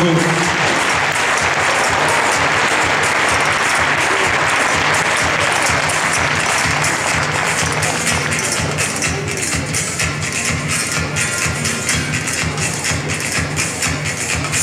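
A spectator crowd applauds at a show jumping event in Bordeaux during a rider's lap of honour: loud, continuous, dense clapping that thins slightly toward the end.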